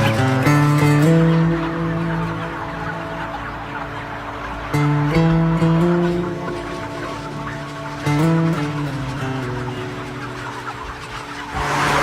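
Dense crowd of chickens packed into an intensive poultry barn, a loud continuous wall of overlapping clucks and calls with stacked tonal cries that swell and fade, heard alone without speech.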